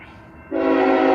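A K5HL horn on a mixed freight train blasts suddenly after a quiet stretch, a loud, steady multi-tone chord that stays close and holds to the end.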